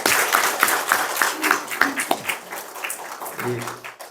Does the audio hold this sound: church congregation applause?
yes